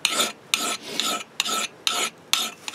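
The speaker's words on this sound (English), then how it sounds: "At this point with the rasp, you're more just trying to create the shaping ridge." A rasp files the edge of a Newfoundland loggers axe in steady push cuts, six rough scraping strokes in an even rhythm with short pauses between, close and clear, with no talking.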